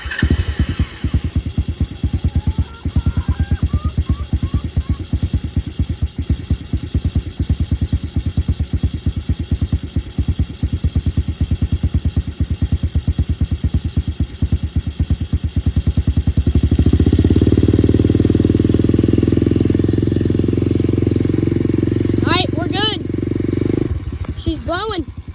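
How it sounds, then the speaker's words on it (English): A clutchless pit bike engine idles with a rapid steady putter, then revs up into a louder, fuller drone for several seconds before easing back; a person talks briefly over it. "pit bike. No clutch. My first dirt bike, by the way"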